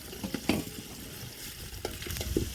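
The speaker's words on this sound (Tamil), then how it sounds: "பட்டை வகையெல்லாம் சேர்த்து நல்லா பொரிஞ்சு இப்போ வெங்காயம்லாம் சேர்த்தாச்சு" Chopped onions frying in hot oil with cinnamon and whole spices in a home kitchen. A soft continuous sizzle runs under occasional stirring scrapes and clinks of a spoon against the pan, up close, with no speech.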